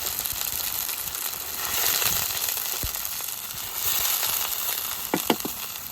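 Onions frying in a pan for a Pohela Boishakh village recipe, a steady close sizzle and crackle with brief sharper pops near the end, no talking.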